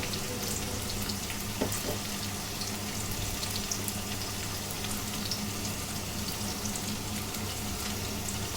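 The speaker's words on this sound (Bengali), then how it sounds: "জলটা ফুটে গেছে, এখন সব মাছগুলো দিয়ে দেবো।" Mirgel fish goes into boiling water in a pan, producing a steady, close hiss and bubbling that fills the whole stretch with no pause or break.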